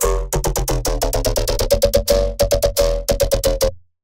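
In Serum 2, a phaser-treated synth bass pulses in rapid, loud rhythmic stabs with a sweeping, buzzy tone. A brief gap comes near the end. No voices are heard.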